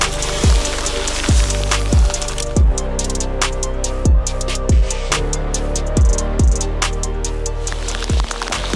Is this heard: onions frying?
no